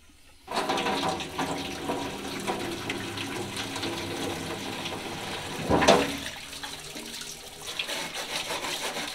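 Water running from a tap to rinse out a paint roller tray in a sink, a steady close rush that swells into a louder splash midway and then settles.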